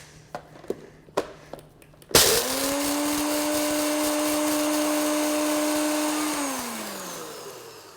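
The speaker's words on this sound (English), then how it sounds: "So we're gonna grind the coffee fresh." Organic light-roast coffee beans ground fresh in a blender, with a few sharp taps and knocks at first, then a loud, steady motor whine with a grinding rattle that holds for about four seconds before winding down.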